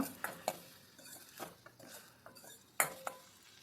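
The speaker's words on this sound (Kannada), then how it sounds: "ಸ್ವಲ್ಪ ಅರಿಶಿನ ಸ್ವಲ್ಪ ಇಂಗು ಎರಡನ್ನೂ ಕೂಡ ಹಾಕಿ ಫ್ರೈ ಮಾಡ್ಕೊಳ್ತಾ ಇದ್ದೀನಿ" Tomatoes frying in a pan with turmeric and asafoetida while a utensil stirs them, giving scattered scrapes and clinks against the pan over a faint sizzle, with one sharper clank near the end.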